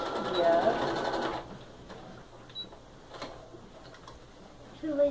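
A sewing machine stitches a quilt along a marked line, its fast whirring run loud for about a second and a half before fading, with voices talking faintly around it.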